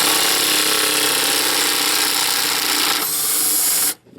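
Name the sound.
impact wrench with 15mm socket on torque strut bolts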